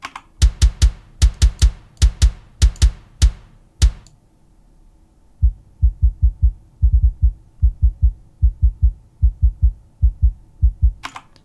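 A heavy, processed kick drum from a heavy drum mix hits alone. It plays in quick, punchy rhythmic bursts, first bright and clicky, then after a short gap darker and deeper, with a steady driving pattern.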